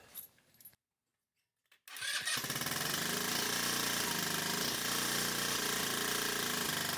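A GY6 scooter engine, freshly fitted with a swapped carburetor, fires up after a moment of silence and settles into a loud, steady, close-up running drone that holds to the end.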